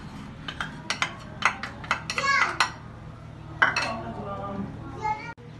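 Masala spices being stirred into food in a pot in a home kitchen, a series of sharp metallic clinks and scrapes of a spoon against the pot with a voice briefly heard nearby.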